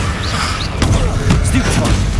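Confringo fire spell exploding in Hogwarts Legacy, with a few short thumping blasts and crackling bursts over game effects and background music.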